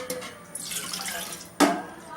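Water is poured into a simmering anchovy fish curry (nethili meen kuzhambu), a brief splashing gush followed by a second sharper pour, close and fairly soft, with no talking.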